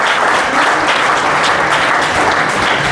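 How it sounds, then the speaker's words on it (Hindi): A seminar audience at a national education conference at DIET Faridpur, Bareilly, claps loudly and steadily, a dense wash of applause filling the hall without a break. "जोरदार तालियां बजाइए एक बार और"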